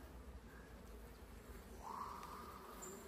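Honeybees around an opened beehive make a faint, low hum, with one brief closer buzz as a bee passes near.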